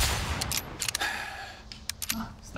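Sniper rifle shots ring out in the video game Resident Evil 4 Remake. Several sharp cracks come over a noisy, dense game soundscape, two shots close together near the middle and more near the end.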